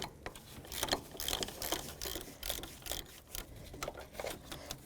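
Ratchet wrench with a 12mm socket loosening the back bolt on a 1998-2002 Honda Accord 3.0L while a timing belt and water pump are replaced, heard as steady, close, rapid metallic clicking bursts throughout with no talk.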